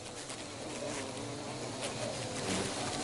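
A swarm of bees hums around its newly built comb, a dense continuous buzz that stays fairly quiet and steady throughout, with no voices.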